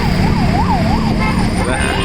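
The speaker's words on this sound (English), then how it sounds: "There's an ambulance going." An ambulance siren wails in a rising and falling sweep through busy early-morning street traffic in Chennai, loud and continuous over engine and road noise.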